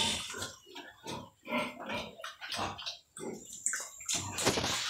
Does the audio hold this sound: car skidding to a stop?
no